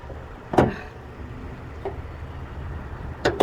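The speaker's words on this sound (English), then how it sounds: "let's get this hood up" The hood of a 2007 Jeep Patriot is raised with a sharp metallic clunk of the latch release, a faint click after it and a pair of quick thumps at the end, close and fairly loud.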